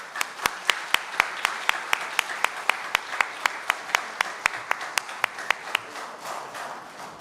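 Audience at a book launch event in a hall applauding to welcome a speaker, a steady run of loud, evenly spaced claps that fades slightly toward the end.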